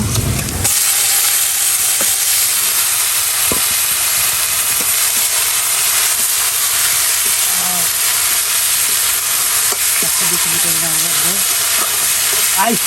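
Leafy greens, steamed and drained beforehand, hit a hot pan with onion and chili and burst into loud, continuous broadband sizzling, with scattered clicks and scrapes of stirring throughout.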